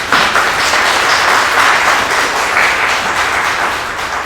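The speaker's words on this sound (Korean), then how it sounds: "우리 하나님께 영광의 박수를 드리겠습니다" A congregation at a seminary graduation worship service applauds, a full and sustained round of clapping that eases slightly toward the end.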